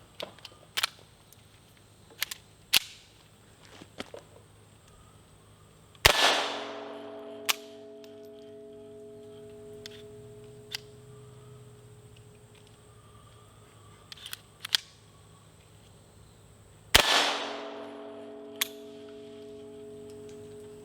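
A USFA Zip 22 pistol fires two sharp, loud .22 rounds about eleven seconds apart, each with a ringing metallic tail, separated by faint clicks and handling noises from reloading attempts.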